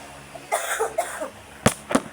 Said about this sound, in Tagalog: Inuubo siya.